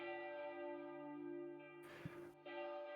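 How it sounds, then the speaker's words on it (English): Bells ring as a sound effect in a fantasy audio story, a sustained, resonant church-like peal with rich overtones, broken briefly by a rustling burst near the end. "The bells also begin to ring again."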